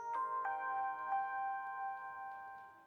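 Charm notification tone from a Samsung Galaxy J7 Neo phone: a few soft chiming plucks at the start, followed by a sustained tonal shimmer that rings on and slowly fades, heard alone and fairly quiet.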